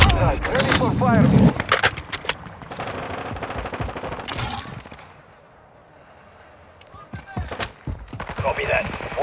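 Rapid bursts of automatic gunfire on the Shoot House map in a first-person shooter video game, loud and close at first, then a quieter stretch before scattered shots and clattering return.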